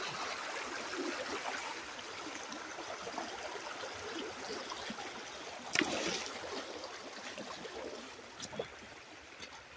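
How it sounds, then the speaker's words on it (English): Rock creek water flowing in a steady, soft rushing wash, with a brief knock or splash near the middle and a few small splashes later, heard close but at low level. "Sorry for the loud water."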